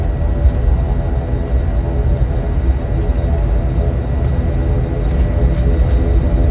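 A steady, loud, unbroken roar of aircraft noise fills the air at Bangalore's Kempegowda International Airport, Terminal 2, with no breaks or passing peaks.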